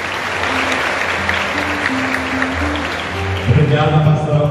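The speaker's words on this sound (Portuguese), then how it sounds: "breve salva di palmas" A brief round of applause in a parish church, with steady clapping throughout and low organ or instrumental tones sustained beneath it. Another sound rises toward the end.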